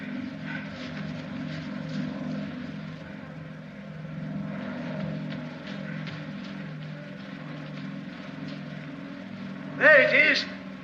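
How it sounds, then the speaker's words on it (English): A propeller airplane drones steadily overhead at a distance, a low engine hum that swells and fades slightly over about ten seconds, ending with a brief louder burst of other sound near the close. "What's the matter? A plane."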